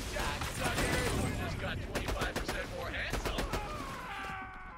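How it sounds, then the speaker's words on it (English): Vladof sniper rifle firing in Borderlands The Pre-Sequel, a burst of sharp, closely spaced shots in the middle of the clip over continuous game noise and effects, with a mechanical reload-like sound near the end. "I'm not really used to using Vladof snipers, so I'm gonna miss a few shots here"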